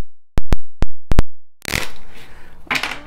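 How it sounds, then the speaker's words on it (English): A deck of tarot cards is shuffled up close: several sharp riffle snaps in a quick run, then a longer burst of rustling and sliding cards, with no voice. "I feel like I needed a shuffle."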